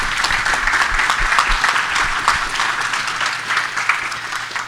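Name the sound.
audience applause for conference speakers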